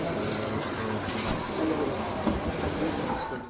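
Steady rumble of a moving train heard from inside a carriage at night, continuous and fairly loud with no clear clatter or voices standing out.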